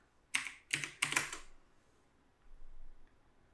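A short burst of typing as a game name is searched in the Google Play Store: a quick cluster of taps followed by a faint pause and a soft low rumble, quiet and close.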